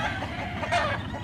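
Hens clucking softly and continuously nearby, a low murmuring cluster of calls with one slightly sharper cluck midway.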